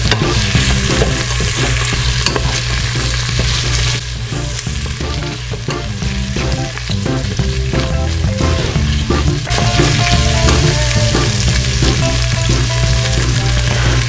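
Sausages and onions sautéing with a little salt inside an Instant Pot, giving a loud, dense, unbroken sizzle and crackle with occasional stirring, close and steady from start to finish.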